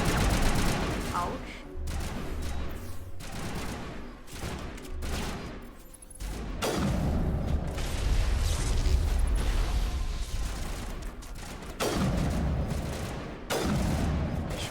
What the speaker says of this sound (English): I shoot him in the knee.